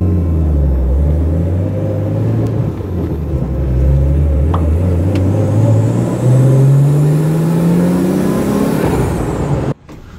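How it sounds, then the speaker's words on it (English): A Nissan 240SX project car with full interior is driven, its engine rumbling loud and close from inside the cabin as it revs and climbs through a gear, rising in pitch until the sound cuts off abruptly near the end. "This might be the last time I get to drive the 240 with complete full interior."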